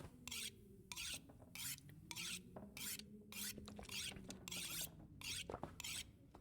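A knife is sharpened in The Long Dark, a survival video game, with rhythmic rasping strokes, about a dozen evenly spaced scrapes against a low background hum, quiet and close.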